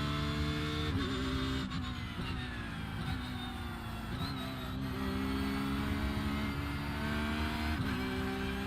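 A Porsche race car in the iRacing simulator holds a loud, steady engine drone close up. The tone sags and wavers slightly as the throttle is feathered off, with no voices.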